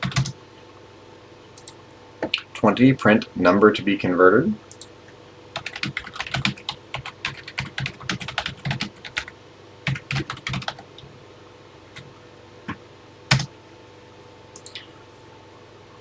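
Clicky keystrokes on a TI-99/4A computer keyboard, a dense run of close typing early on, then scattered taps and short bursts mixed with quiet speech.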